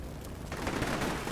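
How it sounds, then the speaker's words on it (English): Dense gunfire from a firefight in the Combat Mission war game, a continuous crackle of overlapping shots that thickens after the first half second and stays loud to the end, with no voices. "That turns into a gnarly firefight."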